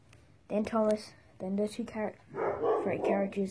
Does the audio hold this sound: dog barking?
yes